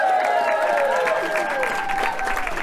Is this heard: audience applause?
yes